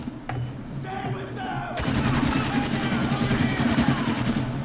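Rapid automatic gunfire rattles in Spec Ops: The Line, with a few isolated shots followed by a sustained burst of close, loud fire. Voices shout over the shooting.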